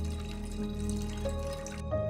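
Water overflowing after a pump motor was left running: a steady, close rushing and splashing flow over a constant low motor hum, continuing without pause.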